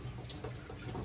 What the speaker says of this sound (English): give that a little spray with cold water.